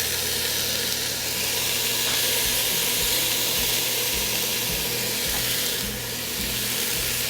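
Minced garlic sizzles in a goulash pot of pork and Hungarian paprika, a steady close hiss that runs unbroken for the whole stretch, with a few faint clinks of a utensil against the pot.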